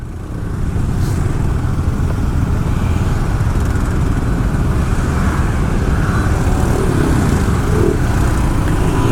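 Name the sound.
traffic jam on Jalan Raya Canggu, Bali, cars and motorbikes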